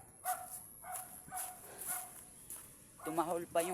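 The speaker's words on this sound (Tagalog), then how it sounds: "Tumahol pa yung aso." A dog barks several times at a distance, short sharp yaps spaced about half a second apart, followed by a person talking.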